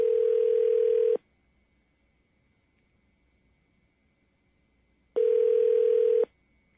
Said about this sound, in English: We're dialing right now.